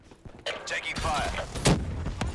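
Gunfire crackles in Call of Duty Black Ops 3 multiplayer, with several sharp shots and bursts over game effects, and a radio-style voice speaks amid the shooting.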